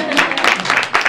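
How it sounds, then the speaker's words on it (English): Audience applause at a campus talk hosted by Duke POLIS, a brief burst of dense clapping from a room of listeners that swells near the end. "Applaud."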